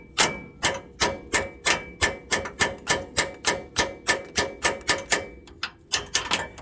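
Sharp metallic hammer taps driving a bolt into the front end of a 1998 Lincoln Town Car, a fast, steady series of about twenty blows, close and loud, with a short pause before the final few.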